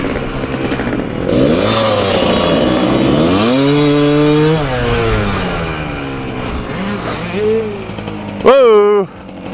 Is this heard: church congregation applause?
no